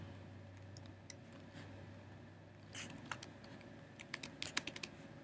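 Typing on a computer keyboard, with quiet scattered keystrokes that pick up into a quicker, clearer burst of clicks near the end over a faint background hum.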